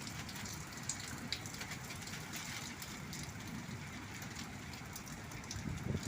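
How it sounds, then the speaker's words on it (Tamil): Heavy rain pours down in Dubai International City, a steady, dense hiss of drops striking surfaces that holds evenly throughout, with no voices. "செம்ம மழை பெஞ்சிக்கிட்டு இருக்கு பாருங்கள்."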